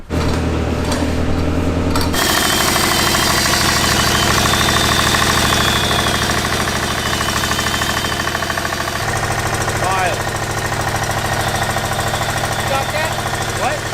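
A giant Chinese diesel V-twin engine fitted to a go-kart runs with a loud, rough, rapid knocking chug that shifts pitch partway through and continues steadily throughout.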